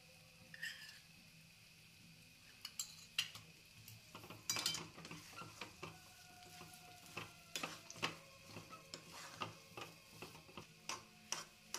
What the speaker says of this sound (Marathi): आता आपण शिऱ्यामध्ये कडनं तूप सोडून एकदा परत मिक्स करून घेणार आहोत.